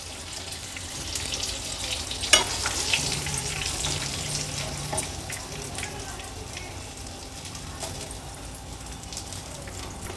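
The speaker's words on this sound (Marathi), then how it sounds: "आता उरलेल्या कोलब्या देखील अशाच फ्राय करून घेऊया।" Prawns fry in hot oil with a continuous close sizzle. Faint clinks and stirring sounds come through, and there is no talk.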